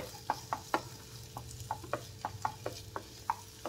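Potato masala mixed with lemon juice and sugar, about a dozen soft spoon taps and scrapes against the bowl in a loose rhythm, close but quiet, with no talking.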